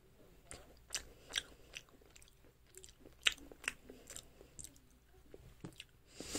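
Close, quiet chewing and soft crunching bites of a green tea macaron, irregular mouth sounds repeating through the stretch with no talking.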